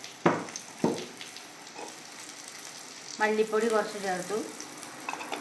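Beef with meat masala and coriander powder is stirred in a hot pan, giving a soft frying hiss and a couple of sharp scrapes, while someone talks partway through.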